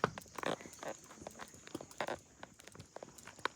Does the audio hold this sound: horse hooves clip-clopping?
yes